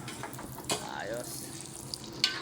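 Food frying in a pan while a meal with chili is prepared, a soft continuous sizzle with a few clinks and a brief faint voice over it.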